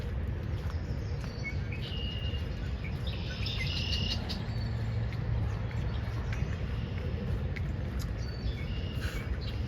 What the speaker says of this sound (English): Lots of bugs out.